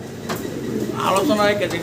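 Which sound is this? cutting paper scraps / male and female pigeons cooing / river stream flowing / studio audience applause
male and female pigeons cooing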